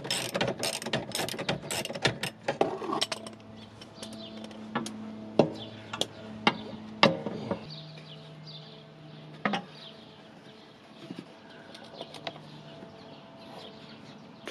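A faulty Project 2000 motorhome entry step moves in and out with ratcheting, clicking gear noises, motor hums and sharp clunks at irregular intervals, close and fairly loud, with no talking.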